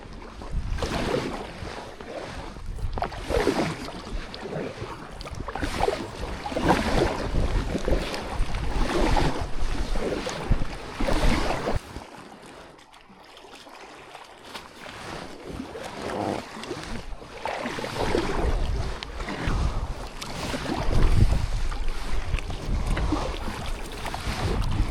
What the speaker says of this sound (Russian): Мы готовы грести дальше.